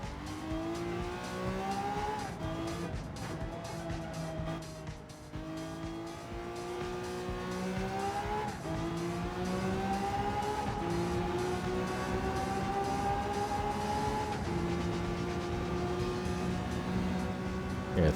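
Lamborghini on race tires in Gran Turismo 7, its engine droning steadily at very high speed with pitch rising and shifting through gears, with faint tire noise, continuous and loud with no talk.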